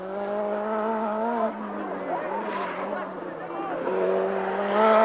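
A Renault 5 Turbo rally car races on the Monte Carlo rally, its engine holding a steady, loud note that shifts pitch with gear changes and tire squeal, with voices over it.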